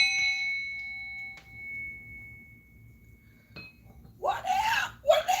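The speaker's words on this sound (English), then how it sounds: "I'm about to ring this bell" A small hand bell rings with a bright, clear tone that hangs and slowly fades, struck a few more times faintly, before a voice starts talking near the end.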